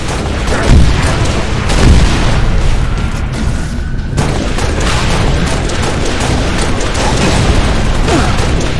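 Gunfire and explosions in Halo: Reach fill the whole stretch with dense, loud, continuous booming blasts and bursts of shots, with no talk over them.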